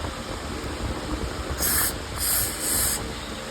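Three short bursts of aerosol fogging oil hiss into the engine cylinders of a Legend race car, each under a second, over a steady background hum.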